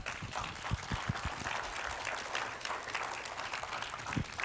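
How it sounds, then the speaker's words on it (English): A seminar or workshop audience claps, a moderate, fairly distant patter of hands that holds steady for several seconds without speech. "a round of applause for both of them"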